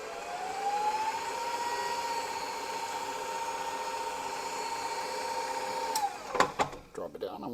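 An electric hand mixer whirs steadily through yellow cake mix at a higher speed, a loud sustained drone with a rising pitch that cuts off near the end, followed by a few clattering knocks.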